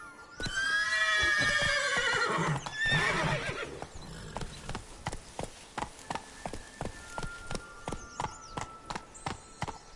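Geralt's horse Roach in The Witcher 3: Blood and Wine lets out a loud neigh. Hoofbeats follow, landing in a quick, regular rhythm that stays close and distinct for several seconds.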